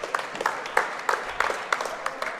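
Crowd applause at a high school boys' basketball game between Oswego and Solvay, honoring a student broadcasting crew; a steady patter of many hands clapping in a gym, moderately loud and sustained through the moment.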